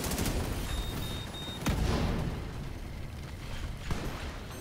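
Video game gunfire crackles in scattered sharp shots and short bursts, a couple of louder cracks standing out against a dense, noisy battle backdrop.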